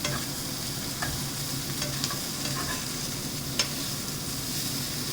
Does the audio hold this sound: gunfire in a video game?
no